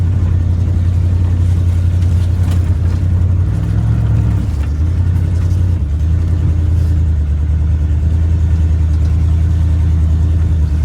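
A 1983 Dodge D150 Prospector two-wheel-drive pickup, parked for 25 years, strains while stuck, its engine droning in a loud, steady low rumble with slight swells as it revs, continuous and close with no talking.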